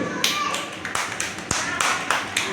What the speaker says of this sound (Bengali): হাততালি করতে হবে।